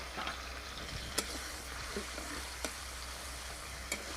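Oil frying in a pan, seasoned with turmeric powder and salt, gives a steady low sizzle with a few sharp clinks of a utensil against the pan, no voices.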